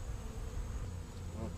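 Honey bees buzz close by during a bee extraction, a steady, dense hum of many insects with a low droning body and faint higher whine, continuous and without talk.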